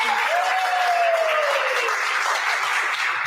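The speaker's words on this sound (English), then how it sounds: "Clap for her as well." Audience applause at the GameJamPlus European Continental Final on Madeira Island, a dense, steady wash of many hands clapping throughout, fairly loud, with a brief voice-like tone in the first seconds.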